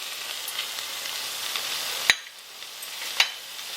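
Ginger garlic paste and cumin powder frying in a pan for a spicy coconut milk chicken curry, a steady loud sizzle with two sharp scraping knocks of the spoon against the pan.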